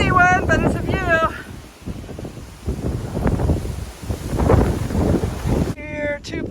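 Wind buffets a microphone at a mountain viewpoint on the Appalachian Trail, a steady loud rumbling gust with someone talking briefly at the start and end.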